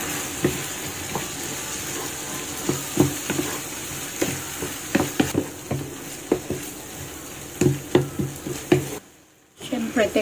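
Corned beef with potatoes, corn and egg stirred in a hot pan, with a steady sizzle and repeated sharp scrapes and clacks of a utensil against the pan. A brief hush comes near the end.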